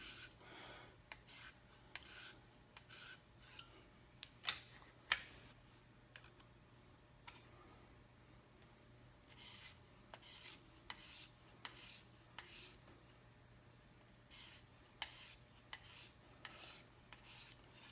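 A knife of D2 steel is drawn along a KME sharpening stone in light-pressure edge strokes, a quiet series of short scraping rasps, some single and some quick pairs, with brief pauses between them.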